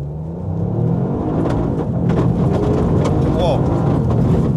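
Toyota GR Yaris driven off the asphalt, its engine rumbling steadily and swelling under acceleration with road and gravel noise inside the cabin.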